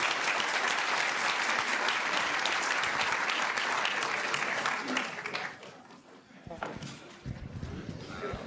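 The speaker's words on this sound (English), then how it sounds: "one quick, strong round of applause for this talented panel" Strong crowd applause closes a tech panel at the Yale Innovation Summit, loud and sustained for about five seconds before fading into murmuring, with voices talking nearby afterward.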